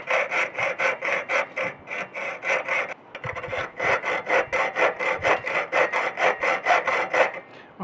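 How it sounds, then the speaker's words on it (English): A piercing saw cuts metal for a wheelchair footrest modification in quick, regular rasping strokes, close and clear, with a brief pause midway before the rhythmic sawing resumes. "the tool I've most precision with is the piercing saw"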